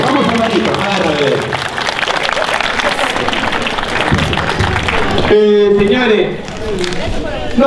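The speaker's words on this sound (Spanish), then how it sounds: "regálame un fuerte aplauso" Audience applause at a street comedy show, a dense wash of clapping that lasts about five seconds before a voice takes over and talks loudly over faint leftover claps.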